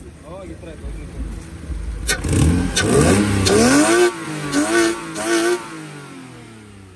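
A BMW fitted with a Toyota engine revs up hard several times at a car market, the engine rising and falling in loud surges, with people talking nearby.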